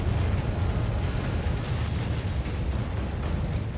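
A hyper-eruption volcanic explosion rumbles as a continuous, dense, loud roar of deep blasting noise that holds steady without pause.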